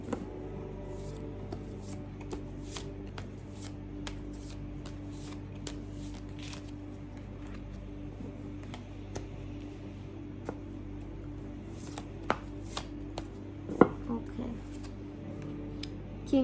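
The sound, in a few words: tarot cards being shuffled and drawn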